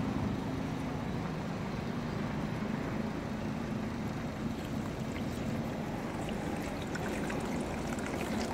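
Water pours steadily into a bottle of washed rice, mixed to make fermented rice-water plant fertilizer, giving a continuous close rushing trickle at an even level with no talking.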